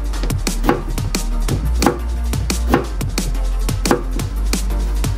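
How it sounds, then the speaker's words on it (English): A knife slices squash thinly on a cutting board, with about a dozen sharp, evenly spaced chops landing close and clear in a steady rhythm. "thin slice squash"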